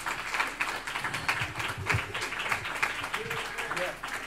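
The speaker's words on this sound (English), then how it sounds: "Give them a round of applause" A crowd claps together at an 85th birthday party, steady applause running throughout with voices mixed in beneath it.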